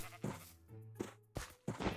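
Sheep bleating in Minecraft, several short wavering bleats in a row, fairly close and clear with brief gaps between calls and no talking.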